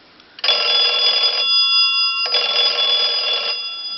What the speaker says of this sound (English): There it is ringing.